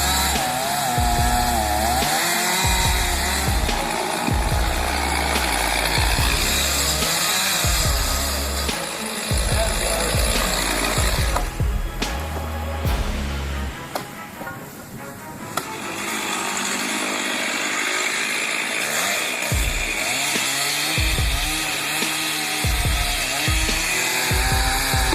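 A chainsaw cuts into a tree, its engine snarling loud and steady for most of the clip, easing briefly mid-way before revving back up hard.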